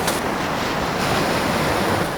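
Waves pound against a racing yacht in the Clipper 2023-24 race as it crosses the Bay of Biscay toward Spain, a loud, unbroken rush of water and wind close to the microphone.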